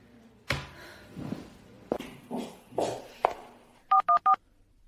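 Three short, loud keypad dial tones sound in quick succession on a phone being dialled, coming just after a stretch of muffled movement and soft thuds.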